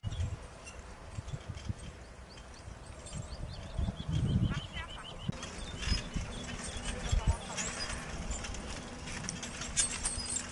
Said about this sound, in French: on va aller retrouver Julie, ma sœur, qui est en train déjà de travailler les vignes avec le cheval.